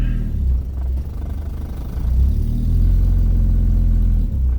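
A rough, rumbling old car engine with a leaky exhaust idles and revs with a sputtering low throb, loud and close, with no talking.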